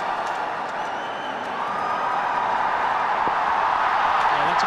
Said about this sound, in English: the big cheer is on the big screen